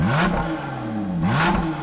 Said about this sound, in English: The first time you start it up, that exhaust note is really something special.